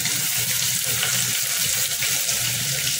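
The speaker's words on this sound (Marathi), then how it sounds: "आता आपण कांदा घालूया।" Onion dropped into hot oil already holding golden garlic, mustard seeds, green chilli and curry leaves for moong dal, giving a steady, close, even sizzle and crackle throughout with no voices.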